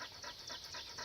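Dogs panting on a mountain hike, rapid rhythmic breaths repeating about four times a second, close but faint, with no talk over them.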